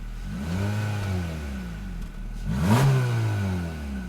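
A 2023 Honda HR-V's 2-liter four-cylinder engine with a continuously variable transmission hums steadily, then surges in a brief rising rev midway before settling, heard close with no voices.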